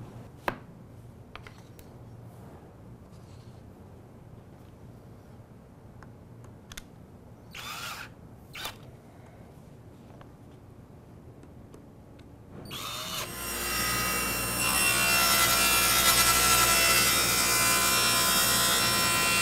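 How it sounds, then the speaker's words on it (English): Table saw cutting bevels on wooden test pieces: a few scattered clicks and short handling bursts, then the motor spins up and a loud, sustained whine and cutting roar fills the end. "Now that we've cut 4 bevels on our 4 test pieces"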